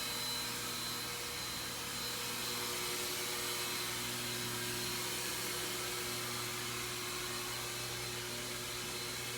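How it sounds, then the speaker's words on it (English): A chemical mister sprays disinfectant mist in a steady, unbroken hiss and motor drone that holds at an even level throughout, close by, with no voices. "If you find that your mist is coming out too heavy, you want to adjust the mister, meaning to turn down the spread"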